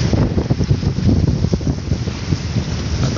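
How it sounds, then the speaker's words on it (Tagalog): Strong wind over Manila Bay buffets the microphone in loud, gusty rumbles, with a watery, open-air wash behind it and no voices. "Lakas pa ng hangin"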